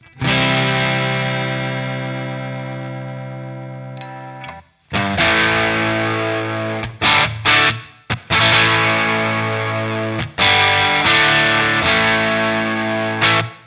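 An Enya Nova Go Sonic guitar on its built-in overdrive setting, playing loud, gritty sustained chords, then choppy bursts with short breaks and more ringing chords, played alone with no talk.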